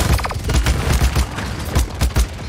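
Rifle fire in the Paladins shooter game, a rapid run of booming shots in quick bursts with short gaps, loud and close, with no speech over it.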